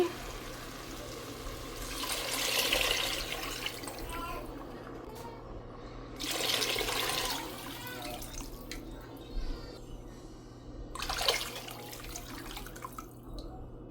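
Water pours and splashes into a pot of lentils cooked with tomato in three separate bursts, close by, with a voice talking in between.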